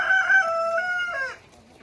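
Chickens in a backyard coop cluck and a rooster crows loudly and close by, a harmonic call that fades out after just over a second.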